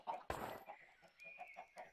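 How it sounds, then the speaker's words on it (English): Minecraft chickens clucking in a game world, several short soft clucks repeating at a steady pace, with one louder sharp burst near the start and a faint tone running underneath. "Really curious and somewhat skeptical why these chickens are all hoarded in this corner over here."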